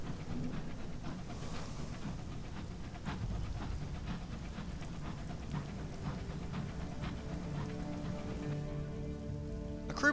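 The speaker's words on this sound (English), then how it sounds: "Sounds like it's raining." Rain in the video game Sunless Skies falls as a steady, soft patter of drops that continues evenly throughout without pause.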